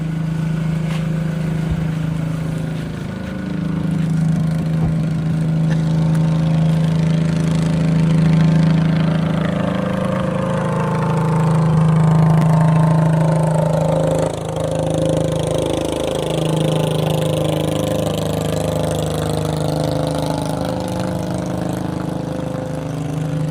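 A large boat's engine idles steadily throughout, a constant low droning rumble with slight swells and dips in pitch, close and fairly loud.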